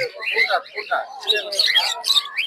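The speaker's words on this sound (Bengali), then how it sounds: "এগুলো সুন্দর ডিম বাচ্চা করা পাখি" Small cage birds at a busy bird market, including cockatiels, give bursts of bright chirps and tweets that come in clusters close by.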